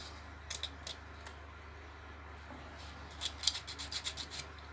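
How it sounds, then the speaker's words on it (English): Quiet rasping strokes sand the edges of glitter in a resin inlay, coming in short irregular bursts with a denser flurry of rubbing toward the end. "what I'm going to do is just sand the edges of the glitter a little bit"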